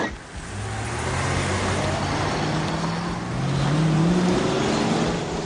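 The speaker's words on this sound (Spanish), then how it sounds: "Son horas y horas de tráfico." Steady road traffic with cars droning past, a continuous engine rumble and a rising pitch as one vehicle accelerates nearby, no voices.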